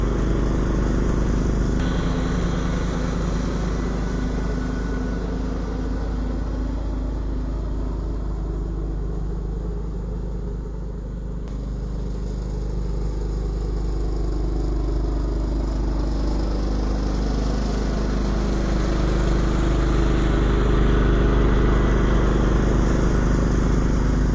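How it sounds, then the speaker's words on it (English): A John Deere LT155 riding lawn mower with a 42-inch deck cuts grass, its engine droning at a steady, loud pitch for the whole stretch with a slight dip in the middle and no talking. "It's best to mow at a steady good speed and not too fast"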